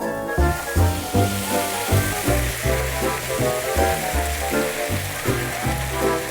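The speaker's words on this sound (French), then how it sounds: "je vais le mettre à suer dans les sucs de la viande" Half an onion sizzles in a pan over the browned meat juices left from cooking meatballs. The frying hiss is steady and close, with a rhythmic musical backing underneath.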